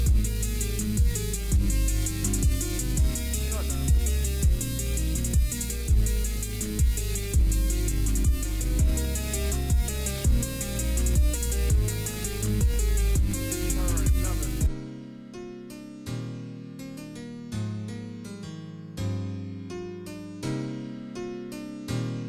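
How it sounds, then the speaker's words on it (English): Beat produced in FL Studio playing, a full mix with steady thumping drums and layered melodic parts for about fifteen seconds before dropping to a sparser, cleaner section of isolated notes and hits. "So I'm gonna play the beat,"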